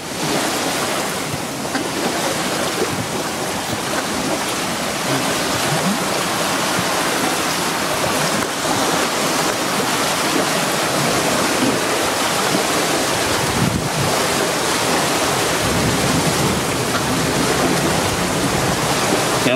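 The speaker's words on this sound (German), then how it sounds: "Regnet. Oh. Jetzt haben wir halt sogar einen Tropfen bekommen." Steady rain falling outdoors, a continuous broadband hiss of drops close by that holds evenly throughout with no voices.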